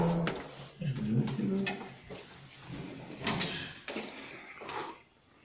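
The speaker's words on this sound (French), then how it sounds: "Donc là, on ferme cette porte-là." An old door in an abandoned retirement home being closed, a few knocking clunks and a scraping creak followed by thuds in a quiet, echoing interior.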